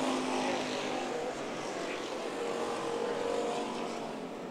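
Street stock race cars lapping the oval at Perris Auto Speedway, a continuous roaring engine drone at a distance with rising and falling pitch as cars pass, steady and unbroken.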